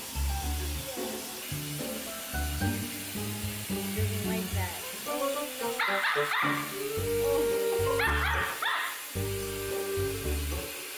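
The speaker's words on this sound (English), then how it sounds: "He's a Yorkie." A Yorkie puppy whimpers and gives short yips during grooming, the small cries coming in intermittent bursts against a steady, busy background.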